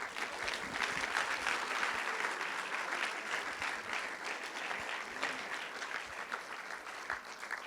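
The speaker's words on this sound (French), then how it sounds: "Applaudissez-vous, mesdames et messieurs." Festival audience at a closing ceremony in Biel, applauding with sustained dense clapping that stays steady and fairly loud, then eases slightly toward the end.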